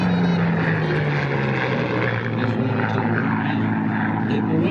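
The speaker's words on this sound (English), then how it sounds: "Their Mustang pass" A P-51 Mustang propeller fighter roars past at an airshow, a loud sustained engine drone with a falling pitch as it passes close by, with crowd noise and a voice faintly beneath.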